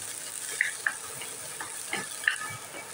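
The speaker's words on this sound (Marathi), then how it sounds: "आणि हे आता मिक्स करून घेऊया." A spoon stirs peas, carrots and other vegetables in a pan for a ragi soup, soft scraping and a few sharp clinks over a faint sizzle, quiet and close.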